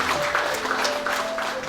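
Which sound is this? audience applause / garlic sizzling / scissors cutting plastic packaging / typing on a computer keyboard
audience applause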